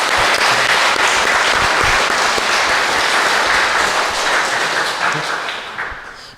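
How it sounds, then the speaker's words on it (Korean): Loud, sustained audience applause of thanks for a married couple at a Catholic marriage mentor education session; full-room clapping that runs steadily and then tapers off toward the end. "카타리나 부부에게 힘찬 감사의 박수"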